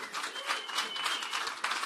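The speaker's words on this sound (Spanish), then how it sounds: "A round of applause for 5-time world champion, the Desert Storm, Timothy" Brief crowd applause for boxer Timothy Bradley at a boxing weigh-in show, moderately faint scattered clapping with a few louder bursts.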